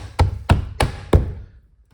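A plastic interior door panel on a 2016-2019 Chevrolet Cruze is pressed back onto the door, making four firm, evenly spaced thumps as its clips seat, followed by quiet.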